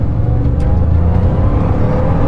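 A very fast car accelerates hard, its engine a loud sustained roar with a steady drone close by throughout and no talk.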